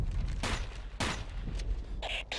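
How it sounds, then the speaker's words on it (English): Grenades burst around a squad in the Ghost Recon video game, with several loud, booming blasts and gunfire coming in close succession, heavy and close, under a busy combat din. "They're dropping nades all around"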